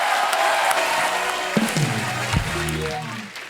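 A studio audience at a comedy show breaks into loud applause and cheering that fills the room from start to end, with a voice briefly sounding over the din partway through.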